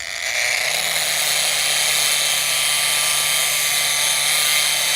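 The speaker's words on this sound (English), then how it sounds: "Now I just have a red polishing pad. So I'm going to use that, clean it up just a little bit further." A red polishing pad on a powered tool whirs steadily and loudly while polishing a metal macro etch test sample, a continuous high grinding hum that spins up at the start and stays constant.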